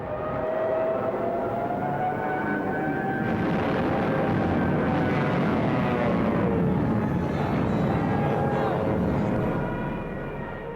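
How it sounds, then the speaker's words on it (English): Stuka dive bombers attacking, a wailing sound effect of rising and falling engine and siren tones over a dense roaring rumble, loud and continuous for the whole span. "with Stuka dive bombers blitzing just ahead of them"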